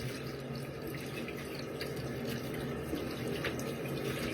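Tap water runs steadily while a face is rinsed at a sink, a continuous, even splash with no voices.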